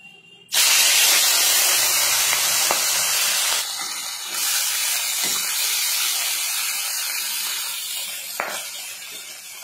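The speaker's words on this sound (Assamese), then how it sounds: "এতিয়া মাছখিনি ভাজি লওঁ ধুনীয়াকৈ কেৰাহী উঠাই দিছো" Rohu fish pieces drop into hot oil in a wok and set off a loud, sustained sizzling hiss. It begins abruptly and stays close and steady, easing slightly partway through.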